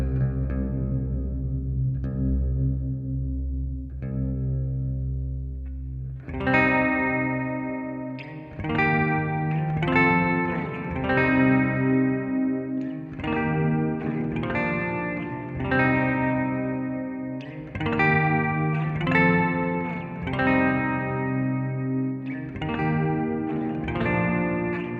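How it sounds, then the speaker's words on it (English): Guitar chords ringing through a UAFX Heavenly Plate reverb pedal with its modulation turned up, a slow sequence of sustained strums each blooming into a shimmering, gently wavering plate tail that fills the gaps, alone and with no voices. "we can add a little touch of magic to it if we turn up the modulation control."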